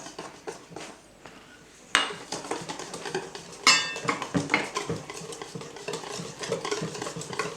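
Crepe batter with milk and jaggery being stirred in a bowl for apple pineapple crepes: busy scraping and clinking of a utensil against the bowl, with a sharp knock partway through, close and continuous.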